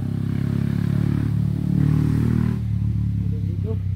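A nearby motorcycle engine idles with a steady low droning hum that rises slightly, then settles lower and rougher partway through, while people talk faintly in the background.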